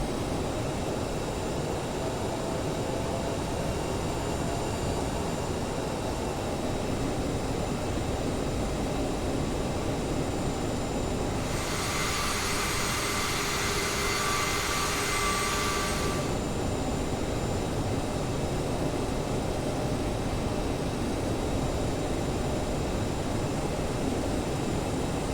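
CRJ 700 regional jet in Microsoft Flight Simulator taxiing at idle thrust, a steady low engine rumble with a faint high whine, briefly joined by a louder bright hiss in the middle before settling back.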